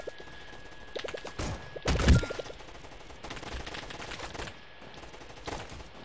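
Rapid gunfire bursts from the Roblox shooter Gunfight Arena, with a dense rattling volley and a loud heavy blast near the middle, then scattered quieter shots and clicks.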